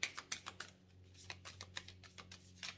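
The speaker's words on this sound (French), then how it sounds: "Allez, j'attrape mon tarot, je vais le mélanger." A tarot deck is shuffled, with soft, rapid card flicks and taps in an uneven rhythm, faint and close, with no talking.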